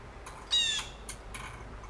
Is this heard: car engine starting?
no